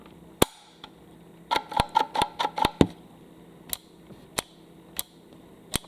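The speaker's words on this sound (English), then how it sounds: "the switch itself is clicking" Sharp mechanical clicks from the switch inside a P-90 toy blaster: a few isolated snaps, then a rapid burst of about eight clicks, then several more spaced clicks, close and crisp with no talk.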